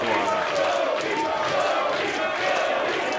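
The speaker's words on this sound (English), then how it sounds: "now they're chanting for him" At a wrestling show, a large crowd chants for Joey Tran in a dense, continuous roar of voices that stays loud throughout without a break.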